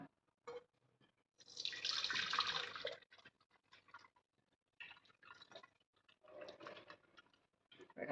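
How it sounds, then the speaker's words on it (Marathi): Water from cooked drumsticks pours and splashes through a strainer in one steady burst, followed by quieter drips and light clinks of a pan. "हे मी गाळून घेते म्हणजे पाणी खाली जाईल"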